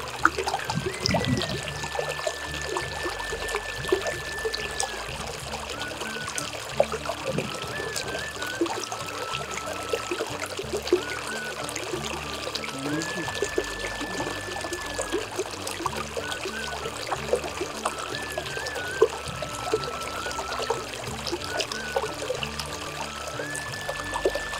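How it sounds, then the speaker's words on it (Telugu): Water trickles and flows steadily through a green natural setting, a continuous close babble with small splashes and pours, while birds whistle and chirp intermittently in the background. "Yes yes. Now look at this water."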